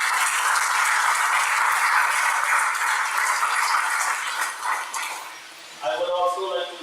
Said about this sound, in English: a round of applause for all of that